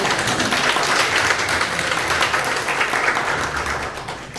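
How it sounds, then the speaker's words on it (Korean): Applause from the audience at a commemorative seminar in Gwangju, a dense, fairly loud burst of clapping that holds steady and then thins out toward the end. "김병학 관장님 워낙 이제 주최자 주인이니까 뭘 따로 박수를 안 해도 되는데 그래도 고생하셨으니까"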